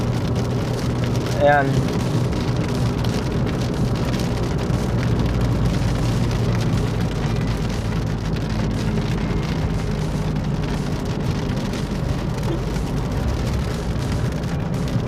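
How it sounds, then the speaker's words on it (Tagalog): Steady rain begins falling, pattering on surfaces in a continuous hiss, with a brief voice speaking Filipino near the start. "Ayan po, pumatak na yung ulan."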